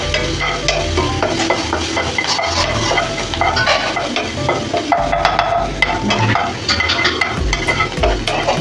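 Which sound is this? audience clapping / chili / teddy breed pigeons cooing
chili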